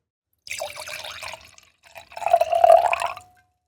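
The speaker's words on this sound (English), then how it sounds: "It's time for the final pour. This is the Cloudy Bay Sauvignon Blanc 2025." Cloudy Bay Sauvignon Blanc 2025 white wine poured from the bottle into a glass, a close liquid gurgle in two bursts, the second fuller and longer as the glass fills, with no talk.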